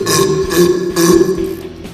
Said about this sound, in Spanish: Pero eso es un eructo.